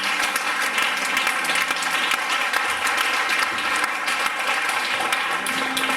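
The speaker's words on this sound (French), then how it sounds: "On acclame très fort le Seigneur." A church congregation bursts into sustained, loud applause for the Lord, a dense wash of many hands clapping steadily throughout with no speech on top.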